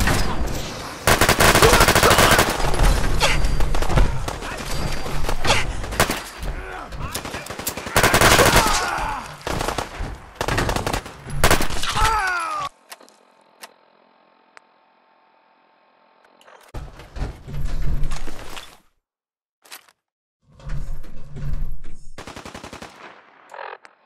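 Gunfire in the video game Fallout 4, loud bursts of rapid automatic shots in dense clusters separated by near silence. A second stretch of shooting comes in later, with scattered single cracks between the bursts.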